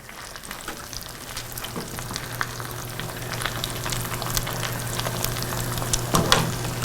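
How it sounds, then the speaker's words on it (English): Food sizzling in a pan on a stovetop over medium heat in a home kitchen, a steady crackling fry with scattered pops and a faint low hum underneath, no talking. "I'm going to let them fry."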